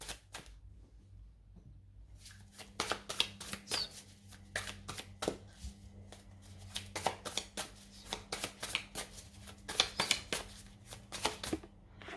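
A deck of Light Seers Tarot cards is shuffled close up, with a long run of crisp rapid riffling flutters and taps in quick bursts after a brief quiet start.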